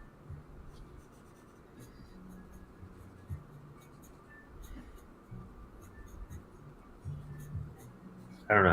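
A pen scratches lines onto paper in short repeated strokes, quiet and close, with soft breaths and faint background noise between the marks.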